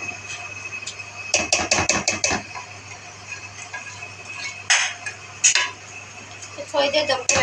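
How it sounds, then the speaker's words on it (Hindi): Masala being fried and stirred in a metal pot, heard as quick bursts of close spoon clatter and scraping against the pot, with short pauses and a faint background hum. "हमने मसाला डाल के अभी हम भूनेंगे इसको अच्छे से।"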